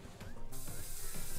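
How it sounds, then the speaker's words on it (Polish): Emz's spray attack in Brawl Stars, a sudden broad hissing burst that cuts in and keeps spraying loudly amid clicky game effects. "Bardzo słaby zasięg ma ten spray."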